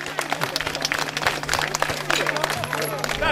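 Audience at a live show in Turňa nad Bodvou clapping in a sustained burst while a voice talks over it, with scattered louder claps throughout.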